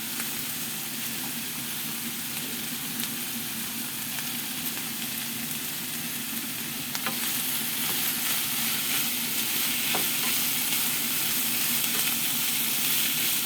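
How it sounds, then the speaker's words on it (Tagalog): Ground meat sautéing with potatoes and carrots in a pan sizzles steadily and close up, with faint stirring clicks and a brighter, louder hiss partway through. "At ating ginigisa na ang aking ulam"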